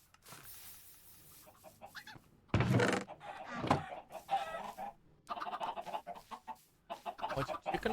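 Chickens cluck in a chicken farm inside a video game, intermittent bursts of clucking heard close alongside clattering game sounds, with a brief voice in the mix.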